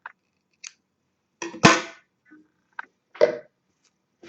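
Scissors snip crochet thread in a few short, crisp cuts spaced apart, with one louder rustle in the middle, close up and otherwise quiet.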